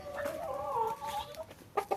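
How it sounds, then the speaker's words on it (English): Big farm chickens cluck and murmur close by in a coop, a drawn-out warbling call followed by a couple of sharp, louder clucks. "These are big chickens right here."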